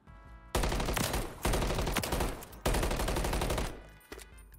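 Rapid automatic gunfire at the shooting range in Call of Duty comes in three long loud bursts separated by short gaps, then fades to a quiet tail.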